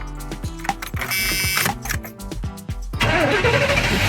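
A Chevrolet G20 van engine cranks with a rhythmic starter chugging for several seconds, then catches and settles into a loud, steady running idle close by.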